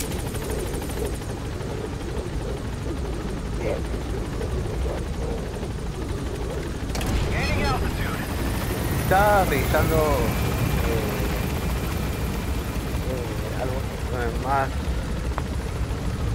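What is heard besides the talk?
helicopter in the video game Metal Gear Solid V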